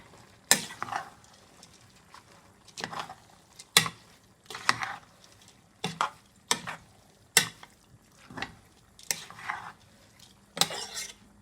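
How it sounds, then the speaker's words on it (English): Guyanese cook-up rice being stirred in a pot, a spoon scraping and knocking against the metal in about nine separate strokes spread evenly, with a faint sizzle between them and no talking. "We're gonna give that a good stir."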